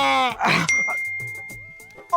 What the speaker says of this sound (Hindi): मैसेज आ गया।